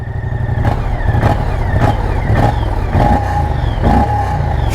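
Moto Guzzi Stelvio motorcycle engine running close and loud, with a rhythmic pulsing throb repeating roughly every half second and no talk over it.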